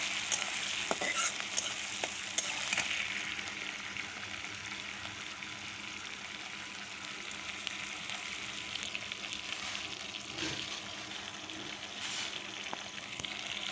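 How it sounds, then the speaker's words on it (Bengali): Prawns seasoned with salt and turmeric fry in a pan with a soft, even sizzle and occasional light stirring clicks, steady and somewhat quiet throughout, with no one speaking. "চিংড়িগুলো এখন লাল লাল করে ভেজে নেব।"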